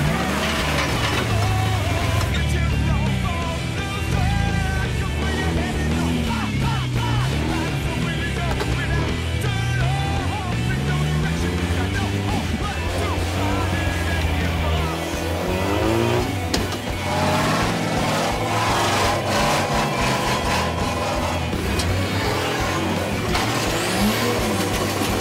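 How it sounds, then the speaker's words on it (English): 4WD vehicles crawling over hard, treacherous rocky terrain, engines labouring and revving in waves with grinding, scraping and dragging against the rock, loud and continuous for the whole stretch. "We'll see the vehicles grinding and dragging themselves over these"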